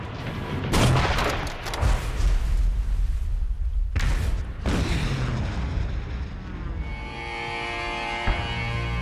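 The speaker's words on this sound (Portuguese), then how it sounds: "Ouvimos o estrondo das armas." Guns of a WWII naval battle off Guadalcanal boom in a film soundtrack, several heavy blasts rolling one after another, loud and reverberant, then a tonal score rises as the rumbling fades.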